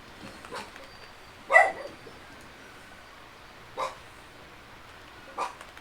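A few dogs bark indoors at home: one loud bark, then two shorter, fainter barks spaced a couple of seconds apart over quiet background.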